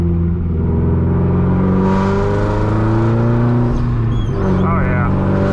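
Straight-piped Subaru STI driven from inside the cabin, a loud, continuous droning exhaust that rises and falls with the throttle, with a brief revving swell near the end.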